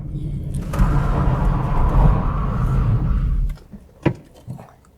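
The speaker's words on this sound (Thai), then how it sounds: "ถ้าเราดึงเบรกมือ แรงเกิน แล้วรถมันเลี้ยวอยู่เนี่ย มันจะเป็นอาการนี้ครับ" A car skids and slides out of control after the handbrake is pulled too hard mid-turn, a loud sustained rumbling roar of tires and engine for about three seconds, then dropping away to a few faint knocks.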